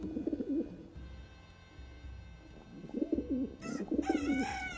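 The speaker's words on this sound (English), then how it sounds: "We have very loud pigeons." Loud pigeons coo in repeated throaty bursts close by, with a brief pause in the middle and a chirpy, warbling call near the end.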